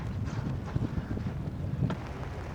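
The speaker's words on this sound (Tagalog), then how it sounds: "Napakalakas ng hangin." Strong wind at a dam view deck in Pantabangan, Nueva Ecija, Philippines buffets the microphone in a constant low rumble with gusty swells, loud and close, no voices heard.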